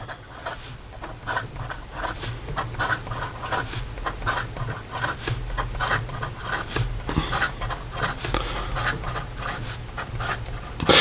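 A Taccia Winter's Breath fountain pen writing fast on paper: close, quiet scratchy strokes in a quick irregular rhythm, with short pauses between words, continuing throughout with no talking.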